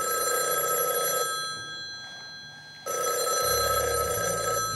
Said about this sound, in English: And the phone would ring twice.